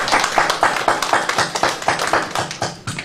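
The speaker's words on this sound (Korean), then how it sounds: "박수 한번 보내주고 대답할까요?" Audience clapping at a citizens' college book talk, close and loud with a quick rhythmic beat of individual claps rather than a broad roar, lasting a few seconds.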